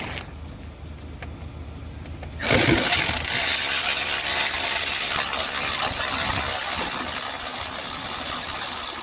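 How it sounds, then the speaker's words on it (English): A ratchet loosens the AC compressor bolts on a Chevrolet Cruze, starting faint and then clicking loud and steady in a long continuous run of close, rapid pawl ticks, with no talking. "So to remove the AC compressor, I had to undo this bolt over here"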